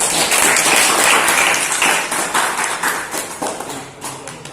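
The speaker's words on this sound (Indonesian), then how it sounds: "tepuk tangan dulu untuk kelompok 4" Classroom applause for a student group: dense, fairly loud clapping from many hands filling the room, gradually thinning and fading toward the end with a few scattered claps.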